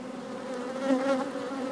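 Honeybees crowd a hive super during a linden and buckwheat nectar flow, their buzzing a steady, close, unbroken drone that swells slightly midway, with no voices.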